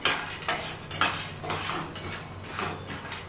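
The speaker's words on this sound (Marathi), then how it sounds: "आता हे जे शेंगदाणे आहेत ना आपण छान भाजून घेतलेले होते ते याच्यामध्ये टाकून घ्यायचे आणि छान असे परतवून घ्यायचे." Roasted peanuts are stirred in a pan with a metal spoon while making a dabeli spice mix, giving rhythmic scraping and rattling strokes about twice a second, close and clear with no talking.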